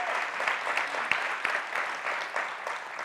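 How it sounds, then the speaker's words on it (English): An audience at a city state-of-the-city event gives a round of applause, moderately distant and steady clapping from many hands with a few sharper claps standing out. "Let's give him a round of applause"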